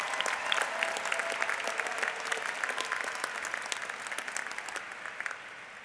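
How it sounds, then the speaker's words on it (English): Sustained applause from a commencement audience honouring the PhD graduates, class of 2015, at the USC Price ceremony, steady dense clapping of moderate loudness running throughout without a break. "Let's give a round of applause to our PhD graduates"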